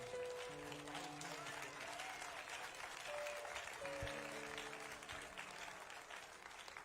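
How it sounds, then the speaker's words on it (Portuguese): A church congregation breaks into loud, dense applause that fills the room, with sustained keyboard or organ tones underneath, continuous and strong from start to finish. "dá uma salva de palmas bem forte e bem alegre para o Senhor"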